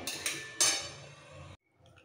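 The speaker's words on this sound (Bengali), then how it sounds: "আবার কড়াইটা ধুয়ে বসিয়ে দিয়েছি" Metal cookware clanks and clinks close by as a wok is rinsed and set down on a stove in a home kitchen, with a few sharp knocks and a scrape before a brief quiet and faint clatter.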